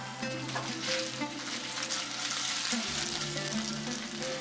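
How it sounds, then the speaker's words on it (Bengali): Paneer frying in a pan over a medium gas flame gives a soft, continuous sizzle, fairly quiet, with a faint steady hum beneath it. "পনির ভাজার সময় গ্যাসটা থাকবে মিডিয়াম ফ্লেমে"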